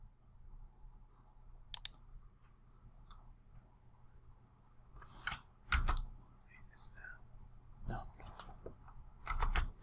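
Sparse, sharp mouse clicks at a computer running CAD software, a few single and paired clicks spread over several seconds against quiet room noise.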